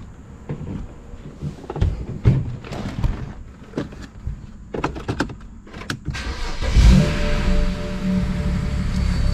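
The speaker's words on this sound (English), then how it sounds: "Little bit of a rattle on startup" A BMW E90 335i with the N54 engine cranks and starts with a slight rattle, settling into a steady idle, after a series of clicks and knocks from around the car.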